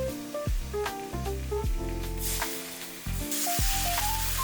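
Sugar, ginger paste and light soy sauce sizzling in a small pan over low heat, a steady close crackling fry with bursts of spatter, metallic utensil clinks and a faint rhythmic background tone.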